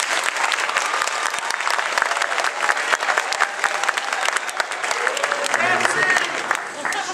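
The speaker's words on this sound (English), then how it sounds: "Please give them a round of applause." Loud, dense applause from an audience at a junior high band concert, honoring students, sustained throughout with crowd murmur beneath.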